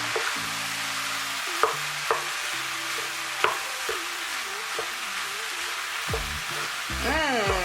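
Cameroonian fried rice is stirred in a pot over the heat, a soft continuous sizzle broken by scraping spoon strokes and a few sharp knocks against the metal, with steady frying underneath.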